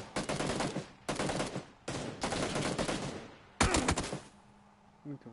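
Gunfire in the video game PUBG: four loud bursts of rapid automatic shots separated by short gaps, then a quieter tail.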